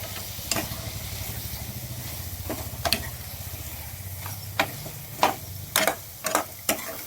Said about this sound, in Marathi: वांगे टाकल्याच्या नंतर मस्त वांगे मसाल्यात परतून घ्यायचे